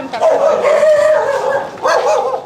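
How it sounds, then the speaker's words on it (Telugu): Several dogs at a house in Tadipatri bark and yip in bursts, fairly close, mixed with people talking nearby. "ఏమ్మా అన్ని కుక్కలు పెట్టినారు?"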